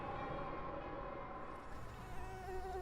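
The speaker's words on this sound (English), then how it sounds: "Well, mosquitoes, yeah." Mosquitoes whining in the wild Kamchatka outdoors, a thin steady insect drone with wavering pitch lasting throughout, fairly close and continuous over low background rumble.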